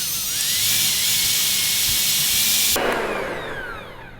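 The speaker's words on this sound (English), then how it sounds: "I am going to do this with my hand mixer." A hand mixer whipping egg whites in a bowl, with a loud, steady, high-pitched motor whine and beater whir running throughout before it tapers off slightly at the end.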